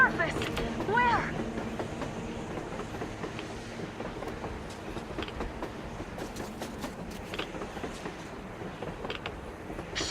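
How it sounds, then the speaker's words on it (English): A train rolling across the surface in the video game Metro Exodus, a steady rumbling roar with rhythmic clatter running throughout, fairly close and continuous, with a few brief voice sounds mixed in early on. "A train! A damn train on the surface!"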